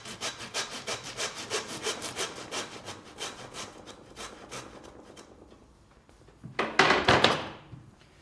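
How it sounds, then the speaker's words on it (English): A hand saw cutting through lamb rib bones where they meet the backbone, with a regular rhythm of rasping strokes, close, fading briefly before a final burst of harder, louder strokes, no talking. "So we're just going to saw through where the ribs meet the backbone."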